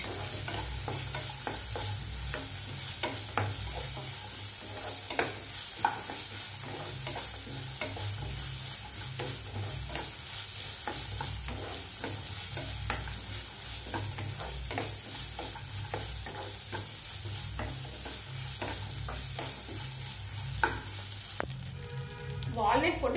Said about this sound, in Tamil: வால்நட் போட்டு சும்மா ஒரு 2 நிமிஷம் நீங்க வதக்கினாவே போதும்.